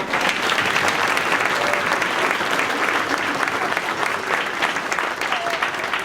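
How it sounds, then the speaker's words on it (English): School concert audience gives a round of applause for young band students at a spring concert, dense continuous clapping filling the hall, loud and steady throughout. "So let's give them one more round of applause."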